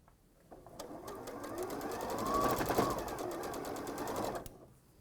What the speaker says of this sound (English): I'm just sewing in pairs.